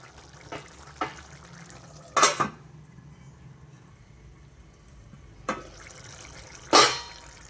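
A spoon clinks and scrapes against a metal pot of chana dal curry a few times, sharp distinct knocks separated by quiet gaps of gentle simmering.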